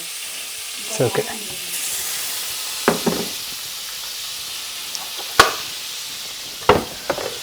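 Butter melts in a heated pan for pav bhaji with a low, soft sizzle, broken by a few sharp knocks and scrapes of a spoon against the pan; a voice speaks briefly.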